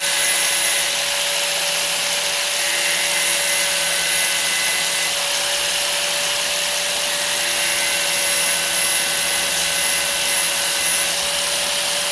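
An angle grinder whines steadily and loudly for the whole stretch, a constant high-pitched motor hum with no pauses, while sharpening a handmade candle-shaped candlestick.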